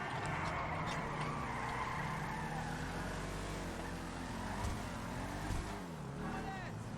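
Car driving and drifting in GTA 5 Online: a steady engine drone with shifting revs and a tire-squeal sweep near the end, moderately distant, with faint speech mixed in.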